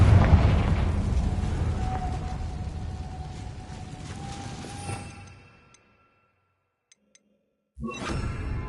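Confringo fire spell explosion in Hogwarts Legacy: a loud, sustained burst with a long rumbling tail that fades into near silence, followed by a brief soft ping and then another abrupt loud blast.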